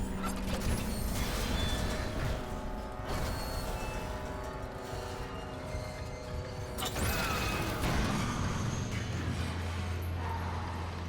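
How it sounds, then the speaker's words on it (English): A sci-fi door in the Dead Space remake grinding open with a mechanical hiss and creaking scree, steady and close over a low rumbling drone, with a brighter sweep near the end. "Doors would open with a mechanical hiss and scree"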